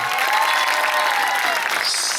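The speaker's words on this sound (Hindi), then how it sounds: "एक जोरदार ताली यीशु के लिए" Audience applause at a church service with songs and a message led by a pastor, as the congregation claps for Jesus: a steady, dense wash of clapping hands filling a hall, loud and continuous throughout.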